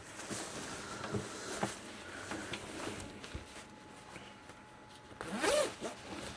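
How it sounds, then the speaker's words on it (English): A zipper is drawn open on a Gerbing heated jacket, a short close rasp amid faint handling rustles, quiet and alone. "Unzip it"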